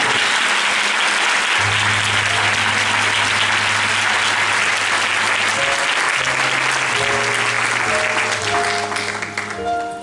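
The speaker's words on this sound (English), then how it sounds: "let us celebrate by the clapping of our hands" A church congregation claps together through a memorial service for an elder, a loud, dense, sustained wash of applause filling the space, with an organ or keyboard holding low chords beneath it.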